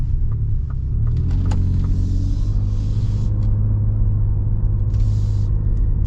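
A Toyota Tacoma Trailhunter pickup with a turbo V6 and 33-inch tires climbs a small hill, its engine a steady low rumble heard from inside the cab, with no talk.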